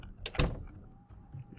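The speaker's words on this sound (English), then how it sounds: "I hear somebody banging on a door somewhere" Muffled thuds of a zombie pounding on a door in Project Zomboid, a couple of heavy knocks early on, then quieter bumps and faint background rumble.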